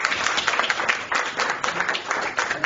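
Applause at a press conference for a music album, a dense burst of many hands clapping from a crowd, steady and fairly loud for a few seconds.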